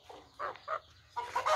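A desi rooster, freshly caught and held in hand, gives a few short clucks in separate bursts, fairly close, with a louder run of clucking at the end.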